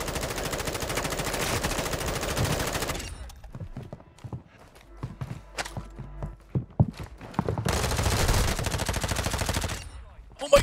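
M4 rifle gunfire from Warzone 2 rips out in two long sustained automatic bursts, loud and dense, with a gap of scattered shots and clatter between them.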